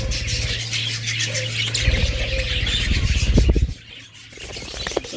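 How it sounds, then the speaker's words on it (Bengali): Budgerigars in an aviary chatter in a constant shrill, busy twittering, with a low steady hum underneath and a brief scraping flurry near the end, close and fairly loud. "হিউজ পরিমাণ পাখি রয়েছে বাজবিগার"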